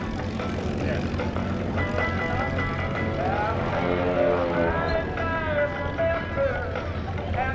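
GEICO Skytypers propeller planes fly close at the 2016 NAS Oceana airshow, a continuous, loud engine drone with rising and falling pitch as they manoeuvre in a mock dogfight, with an announcer speaking over it.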